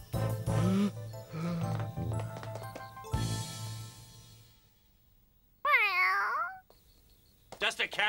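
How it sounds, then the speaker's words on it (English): In a cartoon, people talk in hushed voices, then a cat gives one clear, drawn-out meow close by, followed by a short burst of further voices. "Just a cat."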